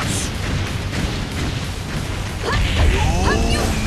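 In One Piece Pirate Warriors, a volcano eruption attack booms and rumbles continuously, with crackling bursts and a swelling roar near the end. Battle noise and effects layer over it.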